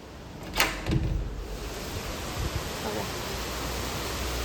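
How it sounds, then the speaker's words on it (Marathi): Heavy rain pours outside a home during a downpour, a dense, steady hiss of falling water heard close up, with a couple of brief knocks near the start and soft voices underneath. "सो बघितलं खूप जोराचा पाऊस येतोय"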